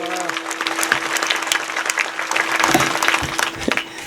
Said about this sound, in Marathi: टाळ्या वाजून स्वागत करा एकदा छत्रपती